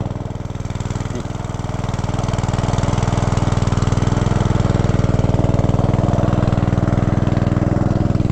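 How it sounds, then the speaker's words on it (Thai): A tractor engine runs loud and close while plowing a flooded rice field, with a steady, throbbing putter that builds slightly in strength and holds continuously. "ตอนนี้เอารถไถไถเอานะทุกคน"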